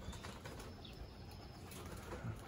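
Pigeons flap past a loft in Texas, a faint soft flutter of wings moving by at a distance, quiet and airy with no talking.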